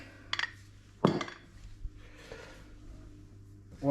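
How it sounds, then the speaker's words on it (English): A pan is set down and handled with a couple of sharp metallic clinks and knocks, with a quieter scrape between, while vegetable oil is poured in for frying fish and chips. "So grab a pan and put in the oil of your choice."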